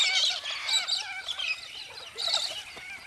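Raucous, harsh screeching calls of cockatoos, likely galahs or other Australian cockies, repeating in loud bursts with brief pauses, close by and with no talking.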